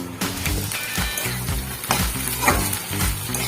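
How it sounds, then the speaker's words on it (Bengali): Beaten egg frying and being scrambled into a crumbly bhurji in hot oil in a pan for homemade chow mein, a steady close sizzle broken by repeated scraping stirs with no talking. "এবার ডিমটাকে ভাজবো ভুজিয়ার মতন করে"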